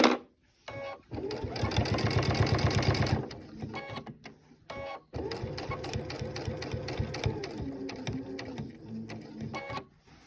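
A sewing machine stitches around the edge of a Dresden daisy table topper with a rapid, close mechanical whir. It runs in two long bursts split by a short pause, with brief stops at the start and end.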